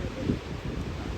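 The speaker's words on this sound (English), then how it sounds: "that wind's picking up" Strong wind picks up outdoors during a severe weather alert, a loud buffeting rumble battering the microphone close up, with no talk.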